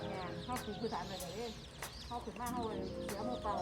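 Many baby female laying-hen chicks, about 100, peep at once in a busy, high-pitched chorus, with someone talking over them.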